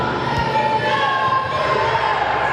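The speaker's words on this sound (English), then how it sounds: "And the crowd pops to their feet" A wrestling crowd at an NWA Mountain State show roars and cheers as fans rise to their feet, a dense, loud burst of voices filling the arena.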